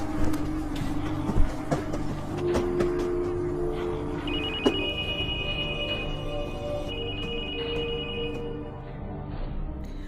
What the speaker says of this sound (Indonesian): namun HP Mira berbunyi di ranjang Mira